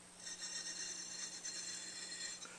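Continuous fine rasping of sandpaper being worked over a Florida double ring puzzle, a steady quiet scratchy rub with no talking.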